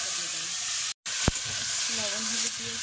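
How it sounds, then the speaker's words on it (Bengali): Panch phoron whole spices dropped into hot leftover fish-frying oil, a loud sudden hiss and crackle that settles into a steady sizzle after a brief break, close and without talk. "মাছ ভাজা করে যে তেল আছে ওই তেলের মধ্যে 5 ফোড়ন দিয়ে দেবো"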